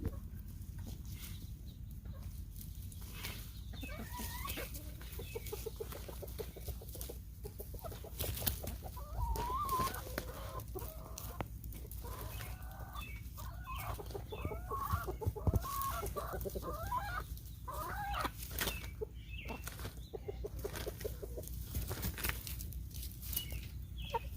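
Several chickens cluck and murmur continuously nearby, with occasional louder squawks over a soft outdoor background.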